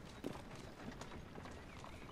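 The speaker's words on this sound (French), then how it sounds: "le cheval qui se barre tout seul" Horse in the Assassin's Creed Syndicate video game running off on its own, with a quick, faint clip-clop of hooves in a soft, busy game soundscape.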